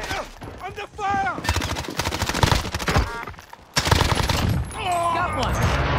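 Gunfire in a Call of Duty-style shooter, with an MP5 and an AMAX in the loadout: sustained rapid automatic bursts crackling loud and close, broken by short pauses, with game voice lines and tones mixed in.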